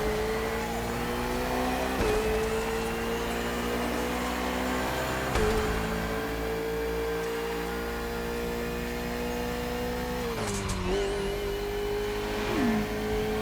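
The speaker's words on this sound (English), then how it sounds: "Guy coming the other way, he's just doing practice laps in his own car" A car driving on a public race track used as a Red Bull circuit, its engine a steady sustained drone with a few brief shifts in pitch, close and continuous without talk.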